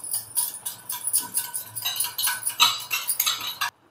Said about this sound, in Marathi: आता हे मिक्स करून घेऊ